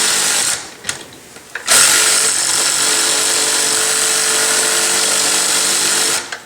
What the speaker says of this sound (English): I use my drill set at a clutch torque setting of 2. Tighten these down.